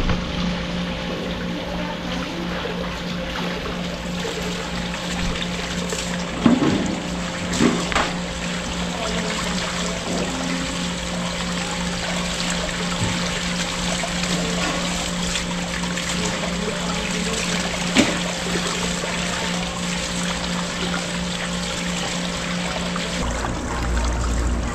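Steady running water pours without letup while fresh bangus and tilapia are cleaned at a rural Philippine home, with a continuous low mechanical hum beneath and a few brief knocks and splashes.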